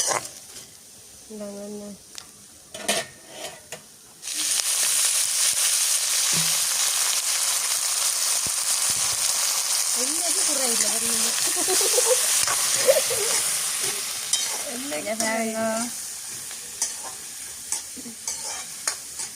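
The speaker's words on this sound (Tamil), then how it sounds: "எல்லாம் சேர்ந்து வதக்கப்படுது" Fenugreek and spices sauté in oil for a Jaffna-style stingray curry; a quiet start with clatter gives way to a loud sustained sizzle and stirring, while a voice talks intermittently over it.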